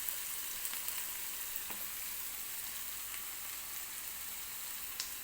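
Sliced onion frying in oil for a potato bhaji, giving a steady, soft sizzle with occasional small pops throughout.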